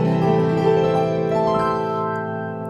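Sustained keyboard chords ring out with the damper pedal held down, notes blending and decaying together in a warm wash, with no talking over them.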